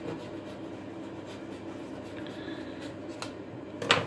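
A knife trims excess pastry from the edge of a jam tart in faint, soft scraping strokes, with a sharper scrape just before the end.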